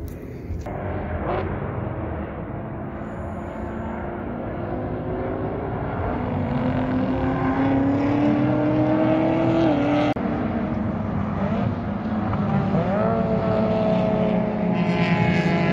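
Race cars at Laguna Seca raceway roar past at a distance, engine notes rising and falling in a continuous blended drone across the whole stretch, with no talk.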